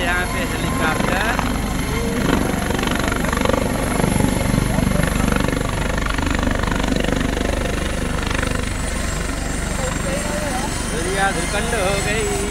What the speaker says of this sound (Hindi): एक साथ तीन तीन हेलीकॉप्टर यहाँ पे आज लैंड किया है